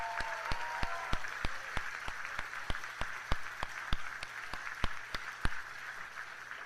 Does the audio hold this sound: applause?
yes